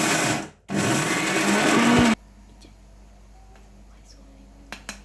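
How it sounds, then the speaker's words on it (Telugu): A mixer grinder grinding peanut chutney whirs loudly for about two seconds, briefly pausing, then stops abruptly, leaving quiet room sounds and a couple of small clicks. "మిక్సీ జార్లో తీసుకుని మిక్సీ పెట్టుకోవాలి"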